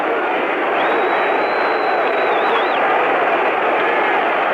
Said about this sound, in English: the crowd picks it up, yelling defense